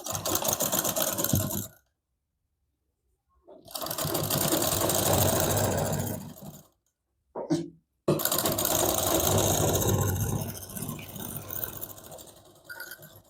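A sewing machine stitches a double katori blouse in several close, steady runs separated by pauses, including one very short burst, with no talking over the motor.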